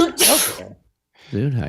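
A single sharp, breathy sneeze bursts out close by, followed after a brief silence by someone speaking.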